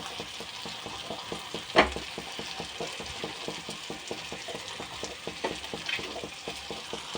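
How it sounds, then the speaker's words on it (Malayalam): Potatoes stirred and frying in a pan for a kadukka (mussel) fry, a steady crackling sizzle with rhythmic scraping clicks of the spoon and one sharper knock near the start. "ഉരുളക്കിഴങ്ങ് ഇട്ട് കൊടുത്ത് നന്നായിട്ടൊന്ന് ഇളക്കി കൊടുക്കാം."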